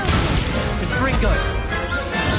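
Confringo blasting spell cast in Hogwarts Legacy, a loud crashing impact burst amid dense combat noise, with a voice heard over it.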